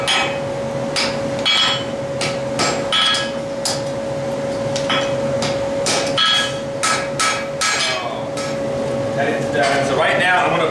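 A steel bar is hammered to round it, with sharp metallic strikes in an irregular series, some ringing, loud and close.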